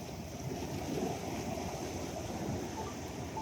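Ocean waves wash steadily along the Pohang coast in South Korea, a continuous rushing surf with soft wind, heard alone at moderate volume.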